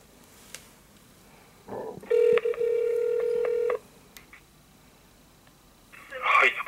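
A telephone call from Japan to the Tokyo Marathon 2020 entry center: a burst of touch-tone dialing beeps, then a long steady ringback tone, followed by a voice answering at the end.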